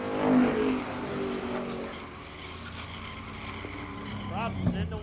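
Modified stock race cars at Mesa Marin Raceway roar past under acceleration, with a loud engine drone, rising pitch sweeps and tire noise, while a commentator talks over it.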